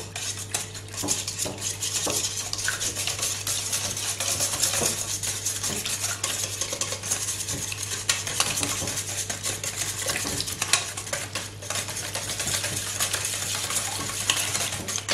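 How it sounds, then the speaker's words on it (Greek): A spoon stirs cake batter of flour and baking powder in a bowl, scraping and clinking against the sides continuously and up close, with no talking. "και θα ανακατέψουμε"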